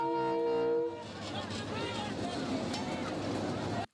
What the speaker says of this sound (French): Ici, le coup de sifflet du train voyageur Bamako-Kay n'a échappé à personne.